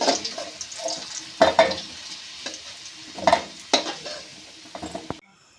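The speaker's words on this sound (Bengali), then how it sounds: "এখন আমার আলুটা বেশ লাল লাল করে ভাজা হয়ে গেছে।" Potato pieces fry in hot oil in a pan, with a steady sizzle broken by repeated scraping stirs of a spatula, loud and close, before a sudden stop near the end.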